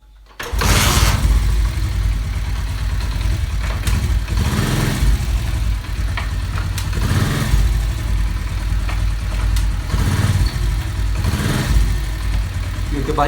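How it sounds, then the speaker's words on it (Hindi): A motorcycle engine that has just had its clutch serviced starts up and settles into a steady, close idle that runs loud and continuous for about twelve seconds, with a few revving swells along the way. "अब मैं करता हूँ बाइक को स्टार्ट और हम चेक करते हैं।"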